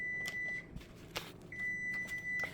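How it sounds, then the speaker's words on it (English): A timer beeps at a vending show table with a long, steady electronic tone that stops and then sounds again, thin and moderately faint over a background murmur, with a few knocks in between. "Hey, we have a timer."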